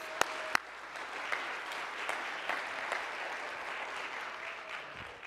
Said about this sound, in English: I got a round of applause.